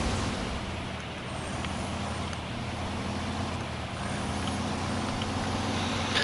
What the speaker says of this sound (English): And this is a T880, I believe, a Kenworth, and I hate it.